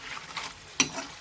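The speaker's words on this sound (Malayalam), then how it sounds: "ഇത് എണ്ണയിൽ കിടന്ന് വേകുന്നതിന് കുറച്ച് സമയം പിടിക്കും കേട്ടോ," Banana slices frying in oil for chips, a quiet steady sizzle with a single sharp clink of a utensil partway through.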